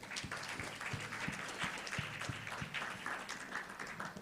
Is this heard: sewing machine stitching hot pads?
no